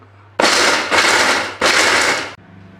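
A blender grinds peanuts for homemade peanut butter on its first speed, three loud, harsh, rattling bursts in close succession with brief dips between them, then stopping.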